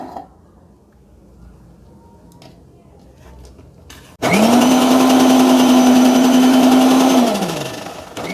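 A kitchen blender whirring oil into homemade mayonnaise starts abruptly partway through after quiet room noise, runs loud and steady for about three seconds, then winds down.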